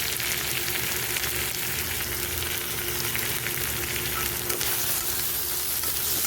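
Spices with salt and turmeric fry in a pan for a Bengali hilsa-head and bottle gourd dish, a loud dense continuous sizzle with faint stirring underneath, steady and close throughout.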